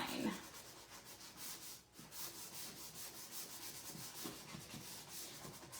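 Sandpaper worked by hand over a wooden sign to distress it, a close, soft scratchy rubbing in quick repeated back-and-forth strokes with a brief pause partway, no talk.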